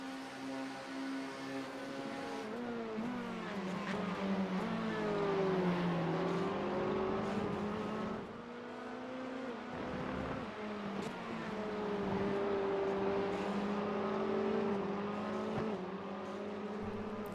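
Engines of race cars in a racing video game at full throttle, a steady droning whine that rises and falls as the cars pass and shift, continuous and fairly loud with no talk.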